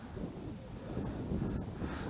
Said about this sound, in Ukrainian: Вітер продовжує дути